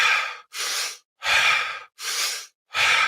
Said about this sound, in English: You're breathing faster, deeper, and you're connecting the in and the out breath.